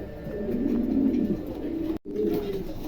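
A pair of German pigeons in gizzle colouring coo nearby in low, throaty, continuous phrases, broken by a brief dropout near the two-second mark before the cooing resumes.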